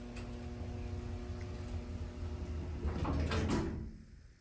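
A 1981 ESCO hydraulic elevator in a Houston office building gives a steady low hum from its door operator or motor. Near the end a sliding door rushes briefly, then the sound drops away. No one speaks.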